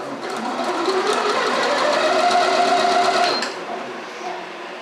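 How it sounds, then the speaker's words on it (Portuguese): A Janome 1030MX sewing machine stitches a buttonhole, its fast close whirring needle run lasting about three seconds before stopping, with a voice speaking over it. "o botão de novo para ligar a máquina e ela vai fazer uma linha fina aqui"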